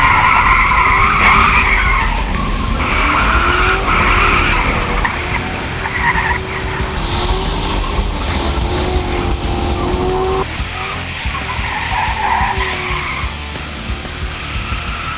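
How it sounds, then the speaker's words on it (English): A Chevy Caprice police car spins out on a wet autocross course, its engine roaring loudly while the tires squeal and skid continuously and the engine pitch rises and falls, with no voices. "I want to watch David spin out the Caprice a few more times"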